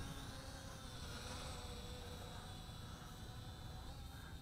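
Eachine E58 720P folding FPV camera drone in flight outdoors, a steady high-pitched propeller whine with a few tonal bands, close and constant throughout with no talk.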